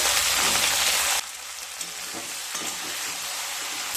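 Broad beans frying in a pan with salt and turmeric over medium-low heat, giving a steady close sizzle; the sizzle is loudest for the first second, then drops to a softer hiss with light stirring clicks.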